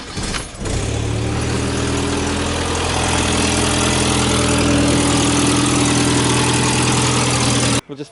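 A Toyota Hilux drift build with a new exhaust and boost fires up, then settles into a loud, steady, throbbing idle that runs unbroken for several seconds before it cuts off abruptly near the end.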